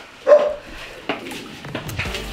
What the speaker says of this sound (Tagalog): mga aso. Buti na lang nakatali.